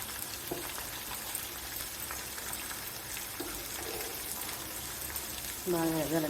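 Mustard seeds and cumin sizzle steadily in hot oil for a tempering, with occasional small pops over a dense frying hiss; a voice briefly speaks near the end.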